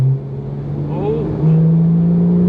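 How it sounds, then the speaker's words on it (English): Porsche 991.2 GT3 exhaust under acceleration, a loud, steady droning note that steps up sharply in pitch and volume partway through, heard from inside the car with a voice briefly over it. "That's one of the things I love about the exhaust in this car."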